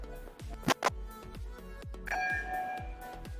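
A bell rings out with a sustained metallic tone, preceded by two sharp knocks and accompanied by a steady rhythmic low thumping in the background.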